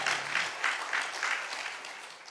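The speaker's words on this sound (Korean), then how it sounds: "하나님께 영광의 박수를 드리겠습니다." Church congregation applauding together during a worship service, a steady wash of clapping with faint rhythmic swells that gradually tapers off.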